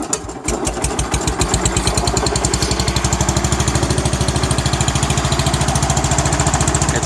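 A Cub Cadet 680 lawn tractor engine fitted with a tall exhaust stack starts with a brief crank, then settles into a steady, loud, close putter with an even, rapid thumping rhythm and no talk.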